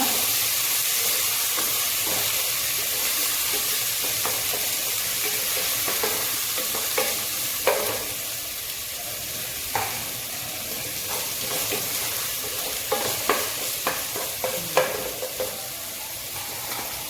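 Pork and Chinese potato being stirred in a hot pan, a steady sizzling hiss throughout with scattered scraping clicks of the utensil, close and fairly loud, no voices.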